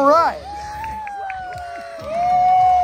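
Crowd cheering and whooping at a backyard wrestling show, Haunted Hellfest, as a wrestler makes his entrance, a steady roar of voices with a commentator talking over it.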